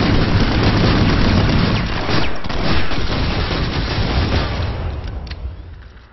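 Video game combat with grenade explosions and rapid gunfire, loud and dense throughout, with heavy booms and crackling shots that fade toward the end.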